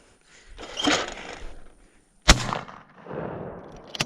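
Winchester 101 XTR shotgun fires at skeet outdoors, one sharp close blast in the middle with a rolling echo, plus fainter distant thumps before and a short pop near the end.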